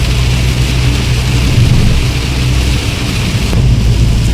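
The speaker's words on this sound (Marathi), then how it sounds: "खतरनाक पाऊस पडतोय महाड शहरामध्ये." Heavy monsoon rain pouring down in Mahad town along the Mumbai-Goa highway, a loud, dense, unbroken roar of rainfall with a low rumble beneath.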